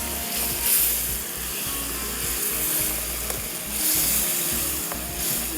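Spices for daal mash fry in a hot pan with a loud, continuous sizzle, broken by soft scraping stirs and occasional brief pops close by.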